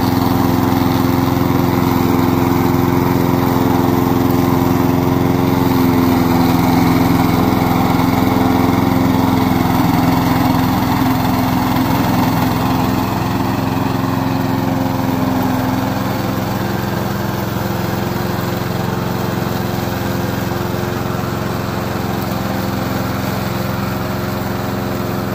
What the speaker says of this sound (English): Today I'm glad to introduce our remote control lawnmower.